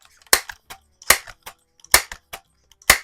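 A 1992 Crosman 760 pellet rifle fired at plinking targets such as silver paddles, four sharp close cracks in an uneven rhythm, each trailed by a quick secondary tick of the impact.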